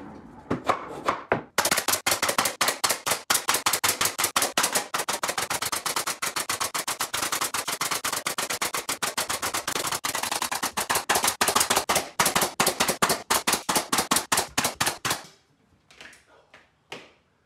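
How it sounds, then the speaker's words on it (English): A nail gun drives 16 gauge finish nails into a wall panel, loud and close, firing in a fast rapid string of sharp cracks for over ten seconds before slowing to a few spaced shots. "I'm using 16 gauge finish nails to mount the panel to the wall while the adhesive dries."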